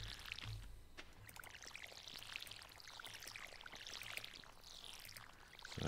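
Crops being watered in the farming game Stardew Valley: a quiet watering-can pour with repeated splashing, trickling bursts, faint and fairly continuous, with no talking.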